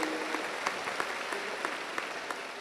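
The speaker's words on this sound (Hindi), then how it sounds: "तो आप सभी लोग तालियां दे दीजिए," Faint, distant rhythmic clapping from a gathered audience at a Hindu religious discourse during a birth-anniversary festival, with claps falling in a loose, regular beat.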